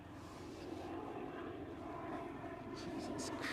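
An Airbus airliner passes over the Westerschelde waterway in the Netherlands, a steady broad engine roar holding throughout and swelling slightly toward the end, with faint voices underneath.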